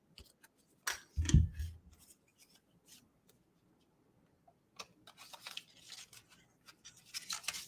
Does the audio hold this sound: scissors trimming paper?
yes